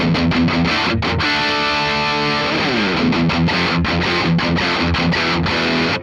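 A heavily distorted electric guitar chugs out a tight, palm-muted riff with a sustained chord in the middle, loud and dense throughout.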